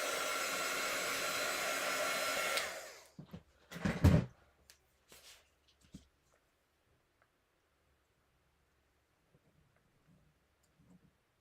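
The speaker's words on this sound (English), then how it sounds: "I'm going to dry it so that it'll show up more." A hair dryer blows steadily at close range over fresh paint in an art journal, a loud even whoosh for about three seconds that cuts off, followed by scattered clicks and small handling knocks.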